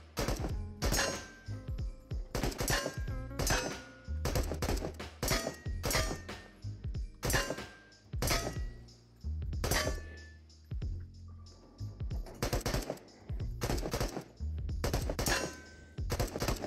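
A 7.62x39 AK fitted with a drum magazine fires in the VR game Into the Radius, with loud, close bursts and rapid strings of shots broken by short pauses, with metallic clinks between volleys.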